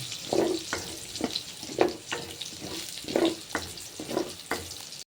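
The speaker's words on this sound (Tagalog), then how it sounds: "Ginisa na natin sa bawang, sibuyas." Garlic and onion sautéing in a pan that held fried chicken for kare-kare, with rhythmic spatula strokes over a steady sizzle, close and fairly quiet, no voices.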